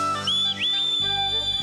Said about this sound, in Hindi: शायद सीटी तब बजी होगी जब वो स्नैक्स खा रहा